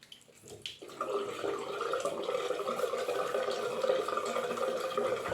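Running water for wetting the face before a wet shave starts after a brief clatter, then settles into a steady, close rushing splash that continues evenly.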